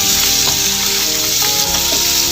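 Thin julienned carrots and peas fry in a pan for Chinese fried rice, making a loud, dense, continuous sizzle up close with faint stirring knocks underneath and no speech.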